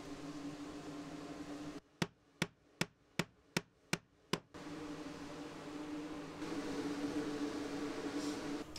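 A hammer drives nails while a tiled shower is built inside an old school bus: seven sharp, evenly spaced strikes ring out close and loud, set against a low background hum.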